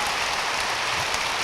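Audience applause at a distinguished lecture, a steady dense wash of clapping from a crowd filling the room, sustained and even throughout the brief stretch with no voices.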